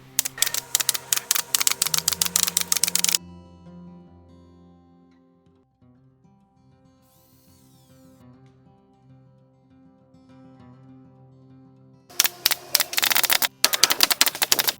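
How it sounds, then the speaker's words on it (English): Rapid bursts of brad nails driven into wooden tabletop edging, loud clustered clacks near the start and again near the end, with a quiet gap between. "Measure, cut, glue, and nail."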